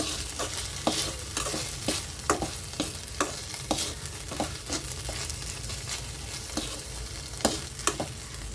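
Tomatoes frying for mutton curry, a constant soft sizzle in the pan with regular scraping stirs of a spoon, close and fairly quiet, no voices.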